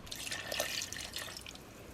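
A can of water poured into a pot of beef gravy in a home kitchen, a soft steady splashing and trickling for a couple of seconds, fairly faint and with no talk.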